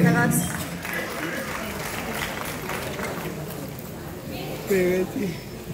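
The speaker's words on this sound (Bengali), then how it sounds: "একবার জোরে হাত তালি দিতে" Audience applause at an awards show on stage, a steady wash of clapping from a crowd in a hall, with a voice speaking over it and a louder swell near the end.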